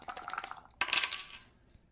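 HeroQuest defense dice are rolled at a game table, a rattling clatter followed by a sharper landing rattle partway through, close and brief with no talk.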